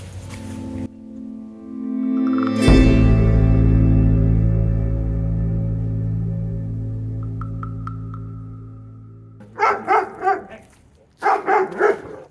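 A large aggressive dog behind a fence gives a long, drawn-out growling howl that swells and fades, followed near the end by two close bursts of loud, rapid barking.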